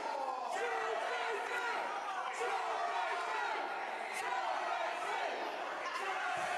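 A wrestling crowd at a live show in Melton chants and cheers for the wrestlers, a dense roar of many voices with rhythmic chant bursts and occasional sharp slams, steady and loud throughout.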